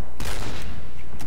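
Suppressed sniper rifle shots in the Point Blank online shooter game burst out loud and close, a sharp report followed by a second shot about a second later.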